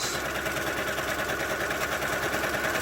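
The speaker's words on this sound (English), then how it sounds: "Then we're going to stitch" Sewing machine stitching fabric face masks, running continuously with a dense, steady mechanical whir and rapid needle chatter, close and fairly loud throughout.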